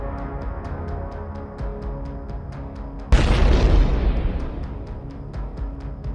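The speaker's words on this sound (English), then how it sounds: "The fire takes hold and soon the tank is ablaze, with a series of explosions as the stowed ammunition and smoke grenades cook off in the heat." A sudden loud boom bursts out as a burning tank's stowed ammunition and smoke grenades cook off, followed by a rumbling roar that slowly fades, over a steady droning hum with faint regular ticking.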